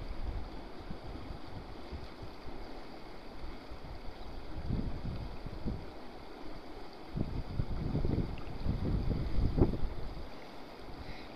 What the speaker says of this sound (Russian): Ветер дугу выдувает